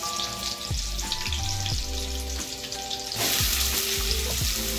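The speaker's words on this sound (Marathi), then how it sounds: "चांगल्या तळून घ्यायच्या आहेत।" Medium-sized chopped green chillies fry in hot oil for vegetable upma, giving a loud, continuous close sizzle that flares brighter partway through, no talking.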